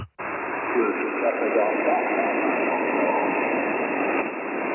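Ham radio transmission heard through a receiver on HF or DMR gear such as an Icom IC-9700 or IC-7610, a steady band of hiss and static that fills the clip after a brief cut at the start, with the signal sinking into the noise floor.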